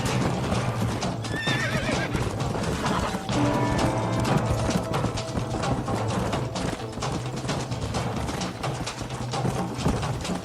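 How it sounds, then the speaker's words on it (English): Horse hooves clip-clop steadily across a Red Dead Redemption game scene, with a horse neighing and whinnying clearly over continuous mid-level game ambience. "Don't you lay a finger on them horses"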